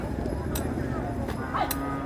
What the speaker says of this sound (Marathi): एकदम टॉप क्वालिटीचा हा बैल आहे